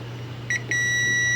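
A continuity tester's buzzer beeps while probing an aircon circuit board from a TCL unit with no power: two quick short beeps, then a steady unbroken tone holding clear and close over a low background hum.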